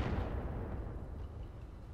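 A single shot in a tank video game, a heavy boom with a decaying rumble that fades away over two seconds.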